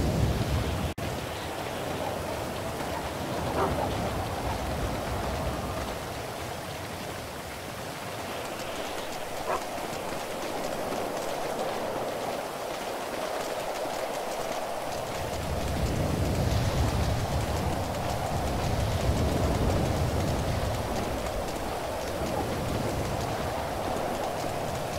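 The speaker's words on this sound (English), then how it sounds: "do you have lightning thunder on at the moment?" Video game weather effect of rain with thunder, a steady wash of rainfall lasting the whole stretch, with low rumbling swells that build and fade, and no talking.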